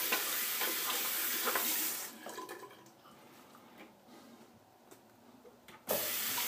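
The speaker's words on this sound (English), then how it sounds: "I'm gonna rinse my hands off." A tap runs steadily for about two seconds while lathered hands are rinsed during a razor shave, then drops to a softer trickle before a sudden loud burst of flow returns near the end.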